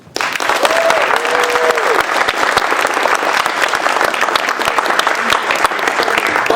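A school banquet audience claps for a teacher during a Christmas skit, a steady, dense round of applause held at full level throughout, with a faint voice briefly audible near the start.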